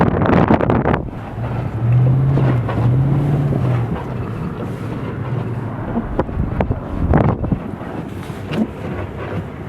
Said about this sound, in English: It's like a lot of wind.